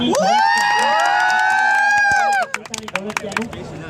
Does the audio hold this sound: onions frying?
no